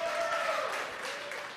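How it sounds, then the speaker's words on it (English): A late-night launch team in Hawthorne cheers and applauds after the Hispasat 30W-6 satellite separates from the second stage, a dense, wash of clapping and voices heard briefly at moderate distance. "the cheering from the late night team here in Hawthorne"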